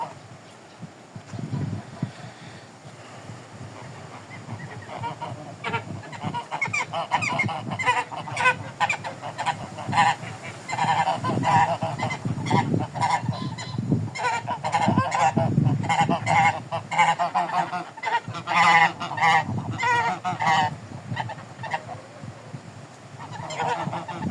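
A flock of Mammoth geese honks loudly and repeatedly, with overlapping calls continuing throughout in an outdoor setting.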